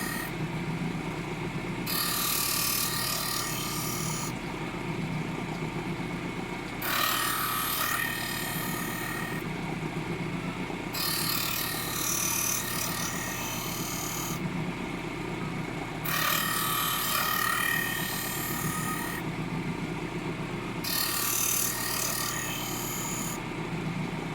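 Gamecock fighting blades are sharpened with repeated gritty grinding passes, each lasting a couple of seconds and separated by quieter gaps, over a constant mechanical hum.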